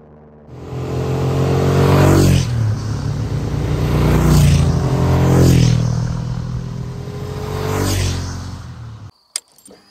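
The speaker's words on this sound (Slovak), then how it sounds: "počuli ste to, tento bzukot typický, už aj pre dnešné motorky" Honda Transalp motorcycle engine running close by, a steady buzzing drone with three rising revs that swell and fall back before cutting off near the end, no voices.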